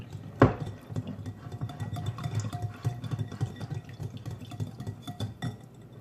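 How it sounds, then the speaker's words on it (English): Quiet clinking and wet stirring as healthy pancake batter is mixed in a bowl, with one sharp knock near the start and soft scraping strokes continuing. "Mix it."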